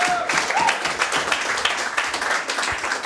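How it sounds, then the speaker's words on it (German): A Hamburg crowd at a rap show claps and cheers, with scattered claps and a few shouts over a busy, noisy room. "Ein riesen Applaus, Hamburg!"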